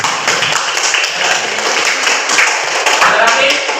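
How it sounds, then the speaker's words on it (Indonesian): In a classroom, students clap for a classmate, producing a dense, fairly loud patter of many hands that runs throughout alongside some voices. "tepuk tangan dulu untuk teman kalian"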